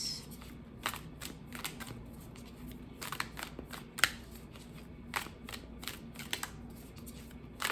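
A deck of cards being shuffled by hand, close and fairly quiet, with repeated crisp riffling bursts and soft flicks at an uneven pace throughout.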